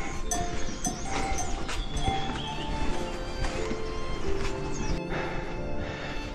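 Donkeys on a mountain trekking trail on the way to Annapurna base camp in Nepal during the monsoon, with steady clip-clopping hooves, a jangling bell and scattered clanks throughout, fairly close and continuous.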